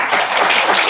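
Audience applause at the close of a talk at an academic conference, a short dense burst of clapping, loud and close.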